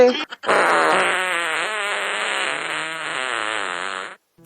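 A long, loud cartoon fart blasts for about four seconds, wavering and rippling in pitch as it drags on, close and dominant in a Tamil animated comedy.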